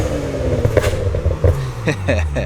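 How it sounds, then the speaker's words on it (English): A BMW fitted with a new VRSF exhaust rumbles at low pitch with crackles and pops, its revs rising in short bursts near the listener, along with wet-road noise. "the new VRSF exhaust sounds so freaking good"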